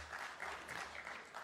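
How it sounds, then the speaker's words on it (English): A faint smattering of audience applause in a hall, light scattered clapping that stays quiet and thin throughout. "there is just a smattering of applause"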